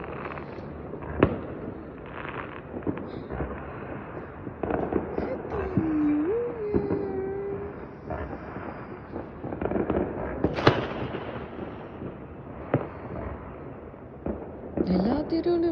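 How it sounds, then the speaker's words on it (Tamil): Firecrackers for New Year going off all around the surrounding streets, a dense run of sharp cracks and pops at varying distances, with people talking now and then and a few whistling rockets. "எல்லா தெருவுலையும் பட்டாசு போடுறாங்க."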